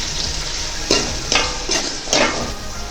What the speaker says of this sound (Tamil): இப்போ இதை வந்து நல்லா வதக்கிக்கலாங்க.